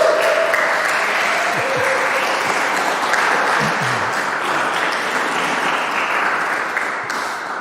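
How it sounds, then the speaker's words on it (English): Workshop participants applaud for Eric, a loud, continuous roar of many hands clapping that holds steady for over seven seconds, with a brief voice or tone audible early on. "Can we give Eric a round of applause?"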